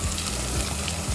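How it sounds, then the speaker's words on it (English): A nearly finished stew stirred as it fries in a pot, a loud, dense sizzle that stays steady across a brief moment, close by and with no voices. "I'll give it a good stir."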